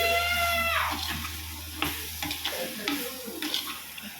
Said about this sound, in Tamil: நம்ம புளி கரைச்சி ஊற்றியாச்சு.